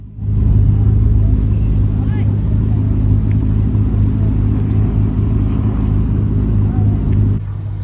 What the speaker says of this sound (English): The last car from this group goes past